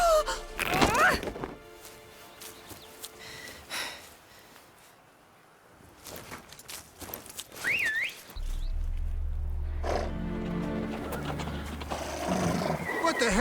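Horses neigh and whinny in a movie scene with a sharp whistle-like call, brief voices and a heavy low rumble building toward the end, suggesting hooves and riders setting off.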